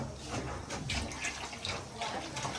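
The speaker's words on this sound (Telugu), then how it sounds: "మనకి అంత పులుసు కావాలంటే అంత వాటర్ పోసుకోవాలండి" Water poured into a pot of chicken curry, a steady broadband rushing splash filling the pot continuously and close by.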